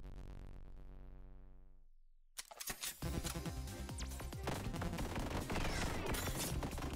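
Rapid bursts of gunfire pour out in the video game One Step From Eden, a dense continuous barrage that follows a sustained musical tone that cuts off abruptly.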